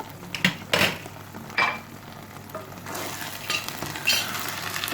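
Rice filling for stuffed grape leaves stirred in a sizzling pan, a spoon scraping and tapping in repeated strokes over a soft hiss, close up and without voices.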